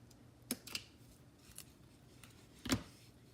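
Scissors snip paper for a handmade Valentine shaker card: two quick close cuts near the start and a louder, sharper snip near the end, in a quiet room with no talking.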